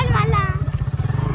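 A motorcycle engine throbs in a steady low pulse while riding, with voices talking over it.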